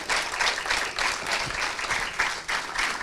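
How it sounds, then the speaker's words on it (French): An audience applauds at a French theatre performance, a steady wash of clapping from many hands at moderate distance, continuous throughout with no voices on top. "vous pouvez les applaudir très fort"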